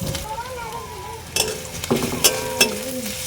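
Chopped onion and slit green chillies fry in a pan with a steady sizzle, and a spatula scrapes and clinks against the pan several times as they are stirred.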